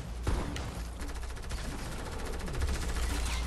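Rapid bursts of Fortnite gunfire crackle nonstop, loud and close, with dense overlapping shots and occasional heavier thumps, no voices.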